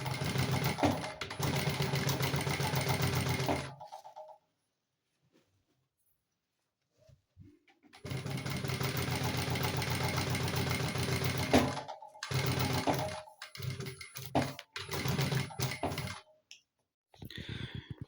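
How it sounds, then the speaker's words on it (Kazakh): A sewing machine stitches upholstery fabric along an oval line for a carriage-tufted headboard, running in long, steady, rapid bursts with a quiet pause in between and shorter stop-start runs near the end. "осы овальный сызығымызды тігіп шығатын боламыз барлығында"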